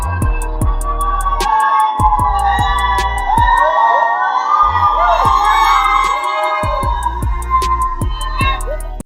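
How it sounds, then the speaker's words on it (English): A crowd at the WNBA draft erupts in cheers and whoops, loud and sustained, with punchy rhythmic thumps beneath it. "The crowd erupted as Clark's face lit up with joy and relief"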